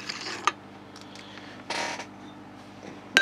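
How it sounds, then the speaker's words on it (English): A loose IKEA chair creaks a few times in a quiet room, short faint groans and ticks with sharper clicks near the start and end. "The creaky noise is my chair"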